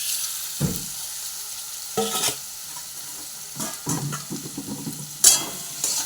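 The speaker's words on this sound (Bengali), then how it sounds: "ক্যাপসিকাম কুচোনো দিয়ে দেবো, পেঁয়াজ কুচি দিয়ে দেবো, টমেটো কুচি।" Chopped capsicum, onion and tomato fry and sizzle in a pan for pasta, with a few louder bursts of stirring and scraping over a steady background hiss; no one speaks.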